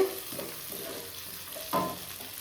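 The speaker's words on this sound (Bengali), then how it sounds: "আর এই যে এখানে পেঁয়াজটা ভাজা হচ্ছে" Chopped onion frying in a pan on a home stove, a quiet continuous sizzle broken by a few soft thuds and clinks from the pan.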